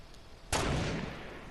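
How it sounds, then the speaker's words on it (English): A single sharp gunshot cracks in a Fortnite match, sudden and loud with a short rumbling tail that fades over about a second. "I'm hearing gunshots."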